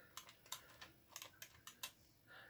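Quick light clicks from the buttons of a new retro joystick, about nine small taps in an irregular rhythm, close and quiet against a faint background hum.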